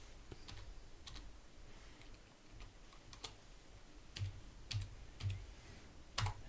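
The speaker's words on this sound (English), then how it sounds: "in that one I'm going to type in John, hit return" Someone types on a computer keyboard while entering names into an Excel sheet, producing sparse, soft key taps with occasional heavier keystrokes like a return key, quiet and close, with no speech.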